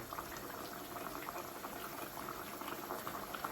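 Potato chicken curry bubbling in a pot on a home stove, a steady soft hiss and burble of simmering liquid, faint and continuous with no talk.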